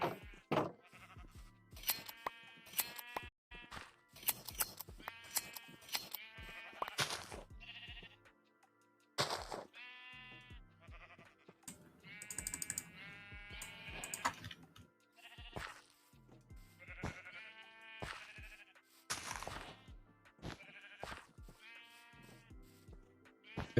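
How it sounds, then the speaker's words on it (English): Minecraft sheep bleat repeatedly in scattered bursts, several overlapping calls at varying loudness, with no talk. "Yeah, look at these sheep"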